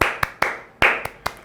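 Hands clapping in a loose rhythm, six sharp claps ringing briefly in a small room, close and loud with nothing else heard.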